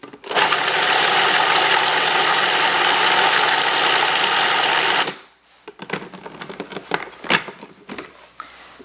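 A blender whirls vegan caramelized onion dip made with Italian seasoning, a loud, steady high-speed roar for about five seconds that abruptly stops, followed by scattered clinks and handling noises.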